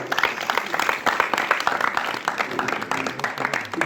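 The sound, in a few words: audience applause, loud clapping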